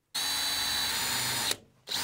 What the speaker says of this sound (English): I'm going to drill a few holes in around the corner areas.